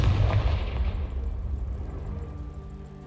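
The Confringo fire spell bursting in the Hogwarts Legacy video game, a heavy booming blast that rolls out and fades into a low rumble over a few seconds.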